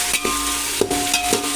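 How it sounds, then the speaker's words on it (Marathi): Onion and tomato frying in oil in a large pot for chicken dum biryani, a steady low sizzle with a few stirring scrapes and clinks, close and moderately loud, no talking. "आपला हा कांदा टोमॅटो छान असा तेलात भाजला गेला आहे"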